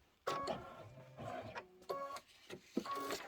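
Embroidery machine stitching out a lettered word on felt for a Sweet as Pie dimensional badge: quiet, close, uneven bursts of mechanical whirring and stepping.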